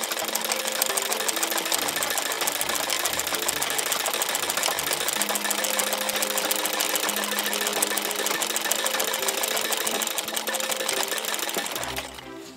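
A sewing machine stitches a seam on a napkin with a steady, fast mechanical whir and rapid needle clatter, running continuously up close before stopping near the end.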